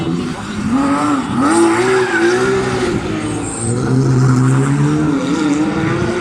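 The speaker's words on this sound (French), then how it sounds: "Ce sont des machines extrêmement compliquées hein, sur des terrains comme celui-ci, ça glisse beaucoup." Porsche rally cars at the 2021 Rally de Wallonie slide across loose terrain, their engines droning and tires scrubbing continuously while a voice talks over the noise.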